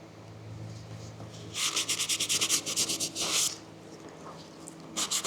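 Cloth rubbing briskly over a leather knife sheath to clear leftover wax, a fast run of close, scratchy strokes in one burst, then quiet, then a short second burst.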